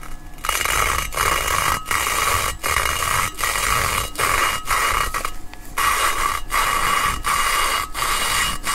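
Valves are lapped on a 20V cylinder head, giving a loud, repeated gritty scraping swish in steady strokes about once every three quarters of a second, each broken by short pauses, recorded close up.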